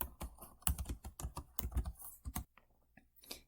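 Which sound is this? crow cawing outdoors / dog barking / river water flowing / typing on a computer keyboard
typing on a computer keyboard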